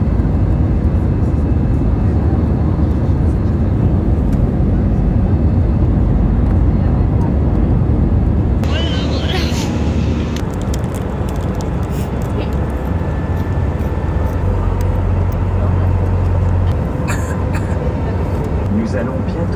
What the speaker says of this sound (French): Nous allons bientôt atterrir.